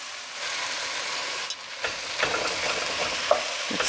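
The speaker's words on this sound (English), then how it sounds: "Let's give that a mix." A spoon stirs chipotle peppers and adobo sauce into a simmering pot of bean stew, with soft scraping and gentle sizzling close by. Sharper clinks of the spoon against the pot come near the end.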